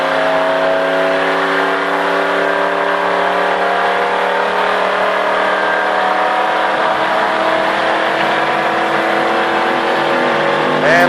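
A race car on an oval track at a driving experience roars loudly and steadily throughout, the engine note holding and climbing under acceleration, close and continuous with no talk.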